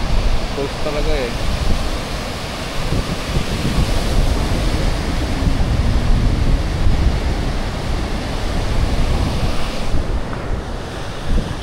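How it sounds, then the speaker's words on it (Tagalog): Strong ocean waves surge and wash onto a beach at an East End, Cayman Islands seaside spot, a loud continuous roar of surf mixed with gusty wind buffeting the microphone, with people talking faintly underneath. "Lakas ng alon dito."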